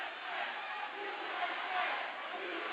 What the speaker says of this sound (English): oh, now we've got a cheer going on, and the cheer is USA.